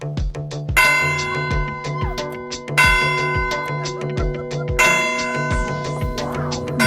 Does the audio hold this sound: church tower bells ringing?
yes